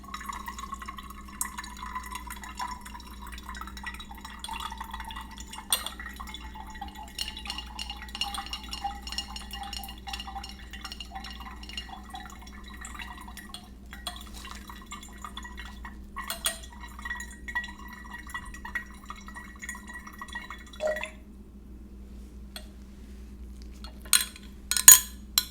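Liquids are mixed in glassware, with soft glass clinks, faint drips and a thin ringing tone over a low steady hum. The sounds are quiet and intimate, with a few sharper clinks near the end.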